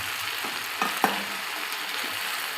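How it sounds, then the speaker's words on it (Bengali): Chicken curry with fried potato being stir-fried in a pan, a steady sizzle with a few sharp scraping knocks of a spoon against the pan. "এটাকে ভালো করে এবার কষতে থাকবো।"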